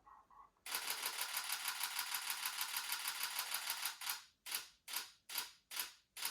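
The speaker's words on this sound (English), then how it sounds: "So let's do it on high speed continuous." A Canon DSLR shutter fires in a rapid high-speed continuous burst, loud and close, then slows into several separate clicks as the buffer fills.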